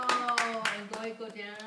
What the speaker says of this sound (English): Here we go with the applause